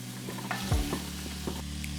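Carrots going into a cooking pot of vegetables, a short thump and rustle over a steady sizzle and low hum, followed by a few soft stirring knocks, close and without talk.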